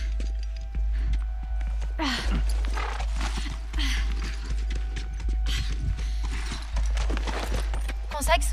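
Horse hooves clip-clop in The Last of Us video game, a steady close clatter of footfalls mixed with creaks and mechanical game sounds, with a few scattered voices talking over it.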